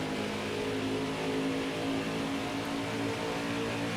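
A NASCAR Cup race car in NASCAR Heat 5 at Homestead Miami Speedway roars at a sustained high pitch, several engines droning together in a close, dense, unbroken wash of sound with no voices.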